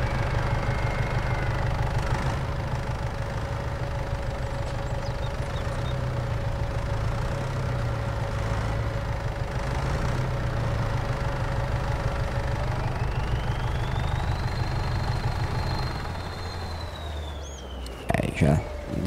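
A tractor engine idles and runs steadily in Farming Simulator 22, a constant low mid-range drone with a rising whine near the end and a few clunks as it stops.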